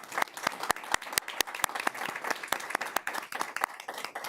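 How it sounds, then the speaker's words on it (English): An audience applauds the city police department at a council meeting marking National Police Week: steady, dense clapping with sharp individual claps throughout, fairly close and sustained. "let's give our police department a big round of applause"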